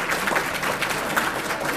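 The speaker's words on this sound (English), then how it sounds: "Please give a round of applause for Dr. King and his legacy." An audience at an MLK Day celebration in Maryland breaks into steady, dense applause, many hands clapping together in a continuous wash of sound.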